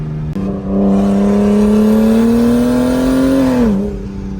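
A big-turbo BMW 535i with the N54 engine revs hard and holds high, a loud steady rising drone with strong harmonics, then drops off sharply near the end; no talk.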